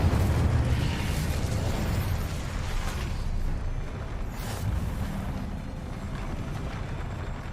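An Incendio fire spell cast in Hogwarts Legacy, a roaring whoosh of flame bursts that starts loud and fades slightly, with rumbling pops running through the whole stretch.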